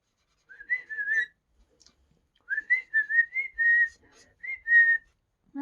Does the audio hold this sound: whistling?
yes